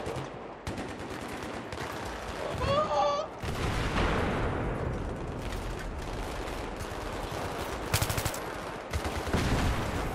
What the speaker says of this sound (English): My god, explosions everywhere.